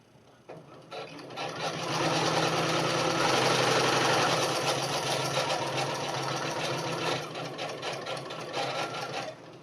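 Fabric edges for a basic mask feed through a sewing machine in a fast, continuous whirring run that starts after a brief quiet moment and holds steady to the end.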